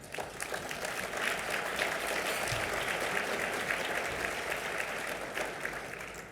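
Sustained, lively audience applause at a Chamber of Commerce parliamentary luncheon, many hands clapping at once, swelling and holding for several seconds before easing off.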